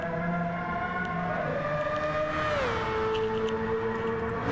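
A Mazda rotary-engined Group C race car screams around Monza in a racing game, a loud, sustained, high-pitched engine wail that drops in pitch midway as it shifts, then holds steady.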